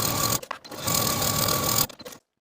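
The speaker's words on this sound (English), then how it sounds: "sew the seams from top to the hem with a 3/8 inch seam" A sewing machine stitches the pant leg seams of a jumpsuit from top to hem in one loud, close, steady burst of rapid needle chatter that ends in a few slowing stitches and then silence.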